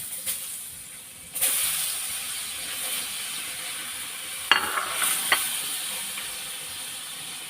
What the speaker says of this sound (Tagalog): Tapos ilagay na natin itong tukwa. Prito natin.